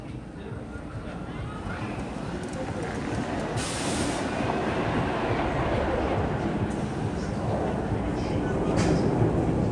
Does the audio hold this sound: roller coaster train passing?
yes